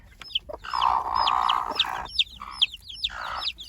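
A hen clucks in short repeated bursts at a poultry breeding pen where chicks have just hatched, with other fowl chirping around it, close and fairly clear.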